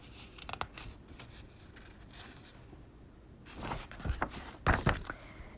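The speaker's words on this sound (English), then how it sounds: "I know it's making noise turning the pages." Paper pages of a book being turned, with a few soft rustles early on and louder crisp flips and rustles near the end, close by and alone without speech.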